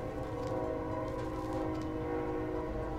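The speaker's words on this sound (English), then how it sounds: "That train's heading straight for your house." A train rumbles past steadily in the video game Final Fantasy XIV, a sustained droning roll with tonal whistle-like hum layered on top, continuous and moderately loud throughout without speech.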